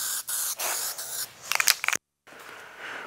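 Red caliper paint sprayed from a can onto Toyota Hilux brake calipers, several short hissing bursts close by with brief gaps and a rattling clatter before a pause and one more softer spray.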